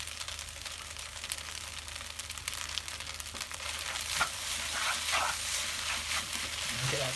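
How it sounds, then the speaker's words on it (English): Singapore noodles frying in a pan, a faint continuous sizzle with occasional clinks and stirring noises, quiet and steady with no voice. "this has been frying now for a minute or so"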